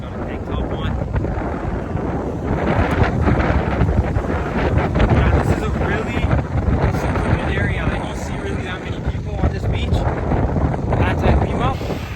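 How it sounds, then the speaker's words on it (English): Strong wind on a beach in Bali buffeting the microphone in a constant loud roar, with a voice speaking at times underneath. "It's so windy, my shirt keeps wanting to fly off."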